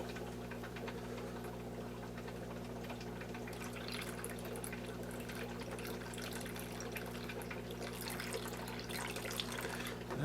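Tap water runs steadily over chopped earthworms being rinsed, a continuous close splashing and trickling stream with a low hum underneath, no talking.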